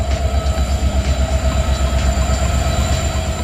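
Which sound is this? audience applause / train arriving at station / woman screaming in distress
train arriving at station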